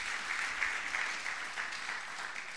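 A church congregation applauds the Bible reading with a soft, distant patter of clapping that stays steady and faint for a couple of seconds.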